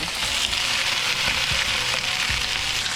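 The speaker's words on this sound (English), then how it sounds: "Can you hear that sizzle?" Chicken drumsticks sizzle as they brown in hot oil in a pan for chicken adobo, a dense, steady crackle with scattered pops, close and continuous with no voices.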